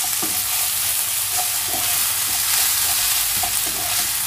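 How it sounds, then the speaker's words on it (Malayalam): Ginger garlic paste sautés in a hot pan for egg masala, giving a dense, even sizzle broken by soft scrapes from stirring, loud and close. "ഇഞ്ചി വെളുത്തുള്ളി പേസ്റ്റിന്റെ പച്ചമണം എല്ലാം നന്നായിട്ട് പോകുന്നവരെ വഴറ്റിയെടുക്കണം."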